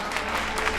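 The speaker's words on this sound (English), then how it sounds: "People in New York really like clapping." A New York crowd claps briefly, a dense, moderately loud burst of applause that fills the short moment.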